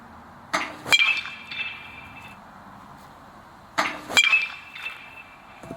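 A baseball is struck twice with a MEGA Bonesaber BBCOR bat, each hit a sharp, loud metallic ping with a short ringing tail, spaced about three seconds apart.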